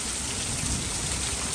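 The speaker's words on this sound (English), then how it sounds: "We've got rain." A sudden rain shower pours down steadily, a dense, even hiss of drops drumming on surfaces close by, holding at a constant loud level throughout with no voices.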